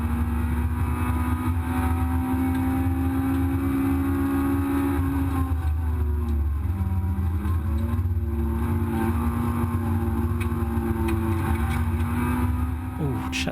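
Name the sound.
race car engine on track at Brands Hatch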